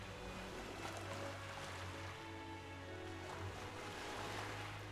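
A ship at sea in Metaphor: ReFantazio, with a steady wash of ocean waves and a low rumbling hull or engine drone, plus faint wind over calm, continuous water.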